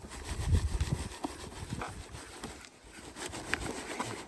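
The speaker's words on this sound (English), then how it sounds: "I'm using like 50 mesh screen to classify material" Wet black sand being shaken and rubbed through a 50 mesh screen, a steady gritty scraping and rustling with uneven pulses of grain against wire, close and moderately loud.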